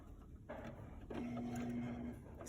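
A sewing machine top-stitches a shirt collar with a quarter-inch seam allowance, starting with a short burst and then running in a steady, quiet whir for about a second before stopping.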